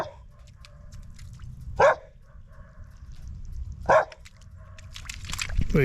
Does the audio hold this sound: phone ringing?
no